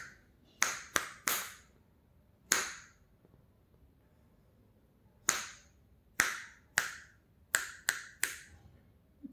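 Finger snaps, full and bassy rather than sharp, ring out alone in a quiet room: two quick snaps, a pause, one more, a long gap, then a rapid run of about six snaps.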